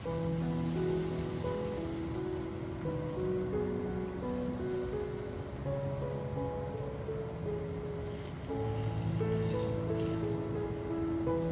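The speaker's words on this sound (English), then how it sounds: "pour 1 cup of chicken broth and 1 cup of white wine, adding them to the pan to deglaze and build a flavorful sauce" Chicken broth and white wine poured into a hot pan to deglaze it give a continuous bubbling sizzle, moderately loud, over steady background music.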